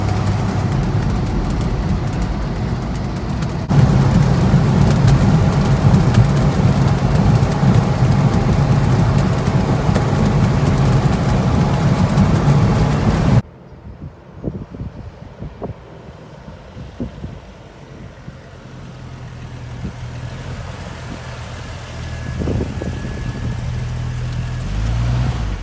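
An old military-trial Jeep, the JU1, drives onto the freeway with a loud steady engine drone and road roar from inside the cabin, which cuts abruptly to a quieter, sparser rumble for the rest of the run.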